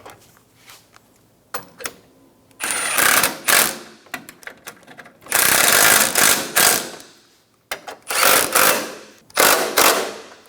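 Ratchet wrench snugging down radiator support bolts on a 2007-2012 Nissan Altima, loud close bursts of rapid clicking in three main runs with short ticks and pauses between, no talk.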